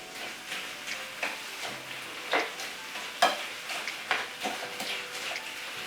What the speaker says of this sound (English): Make sure all the sauce is in the little potato chips.